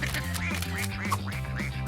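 Ducklings quacking in rapid, repeated high calls, a dense overlapping chatter that carries on without a break, close and fairly loud, with no one speaking.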